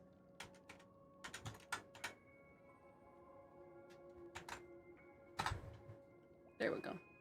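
Scattered keystrokes on a computer keyboard come in short irregular bursts with pauses between, close and fairly crisp, under a quiet background.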